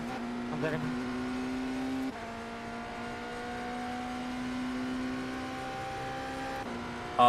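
A Porsche RSR race car engine in a racing video game at Daytona holds a steady, high, tonal drone with gradual pitch shifts, running under a voice.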